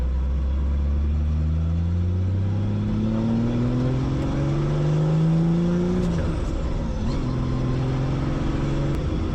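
A Gunther Werks Porsche Turbo Mule with a GT3 transmission revs up to 7,500 rpm, its engine tone climbing steadily for several seconds and then dropping back, loud and close from inside the car.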